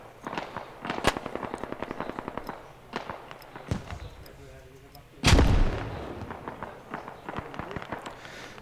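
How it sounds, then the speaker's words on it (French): Grenade launcher and gunfire in the Squad combat video game: rapid crackling shots and several sharp blasts, with one heavy deep explosion near the middle, followed by more scattered fire. "Lance grenade."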